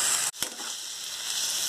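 Vegetables for restaurant-style Hakka noodles sizzle in a hot pan, a steady bright hiss briefly broken by a short gap and a sharp stir or clatter.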